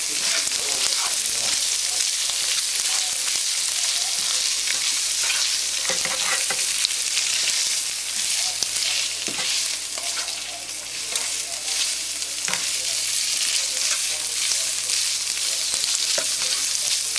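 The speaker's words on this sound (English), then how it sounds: "Now I'll just stir these throughout the mixture" A ground beef mixture for shepherd's pie sizzles loudly and steadily in a pan as it is stirred, with faint scraping strokes mixed into the constant frying hiss and no voices.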